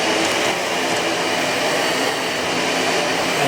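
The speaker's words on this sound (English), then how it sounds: "And now simply just vacuum the floors." Shark Navigator NV105 compact upright vacuum running over a hard floor with the brush roll switched off, a loud steady motor whoosh and airflow hiss from start to finish.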